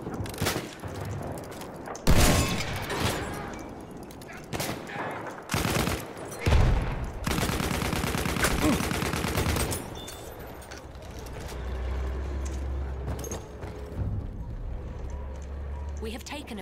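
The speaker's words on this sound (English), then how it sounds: "Sighted a tank." Battlefield 1 battle with a tank nearby: bursts of gunfire and rapid automatic fire come and go over heavy rumbling and loud booms, while voices talk in the background.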